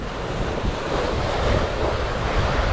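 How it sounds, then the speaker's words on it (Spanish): Sea waves wash onto the shore in a steady, loud rush of surf, with gusting wind buffeting the microphone and no voices. "Y así se ve el mar el día de hoy."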